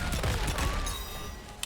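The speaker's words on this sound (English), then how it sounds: "What I do with Robocop a lot is forward to cannon." Robocop's cannon firing in a fighting game, a dense burst of heavy blasts and impacts at the start that tails off into ringing effects, with a sharp hit near the end.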